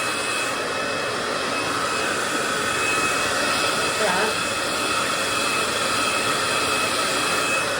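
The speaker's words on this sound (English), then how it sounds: "start using the round brush again and start drying it again in the direction I want it to go in" A hair dryer blows steadily and loudly at close range while hair is dried with a round brush, giving an unbroken whooshing roar with a slight shift partway through.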